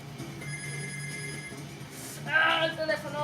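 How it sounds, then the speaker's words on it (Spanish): A telephone rings inside a video game, repeated electronic bell tones sounding steadily for about a second and a half, followed by someone speaking excitedly over game sounds. "¡Ah, el teléfono!"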